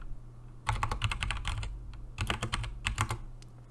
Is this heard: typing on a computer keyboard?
yes